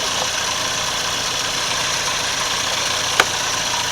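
A 2013 Chevrolet Equinox with a 2.4 Ecotec engine idles steadily nearby, a continuous even hum with one brief tick near the end.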